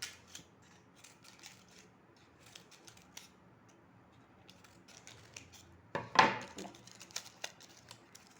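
Scissors snip through layers of a paper cup to shape petals for a paper sunflower, with soft, quiet, close cuts spread across the clip and a louder crisp snip near the end.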